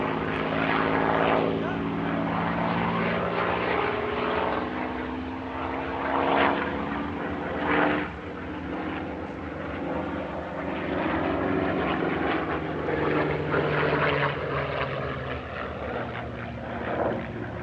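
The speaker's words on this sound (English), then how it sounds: "Finally, the four aircraft regroup for a run and break to land." Four vintage warbird propeller aircraft roar past at an airshow, a loud, continuous droning engine sound that swells and shifts in pitch as they fly by, with a voice speaking over it.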